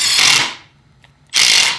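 Milwaukee M12 Gen 3 impact driver in self-tapping mode driving a self-tapping screw into wood, two loud bursts of rapid ratcheting impacts separated by a short pause, close and without talk.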